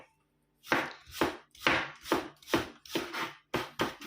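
A knife chops steadily through onion on a board for shashlik, about a dozen crisp, evenly paced cuts, close and clear with no talking.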